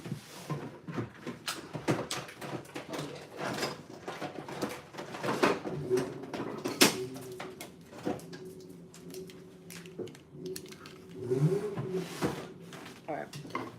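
Drawers in a room being pulled open and pushed shut: a run of close, clattering knocks, slides and thumps over about fourteen seconds, with a voice murmuring at times.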